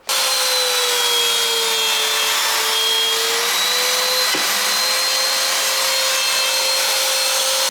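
A router with a quarter-inch bit whines steadily and loudly while cutting a channel into a Telecaster guitar body, with a brief dip in pitch midway as it bites the wood.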